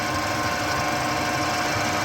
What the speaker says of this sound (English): So we'll start off as always with a centre drill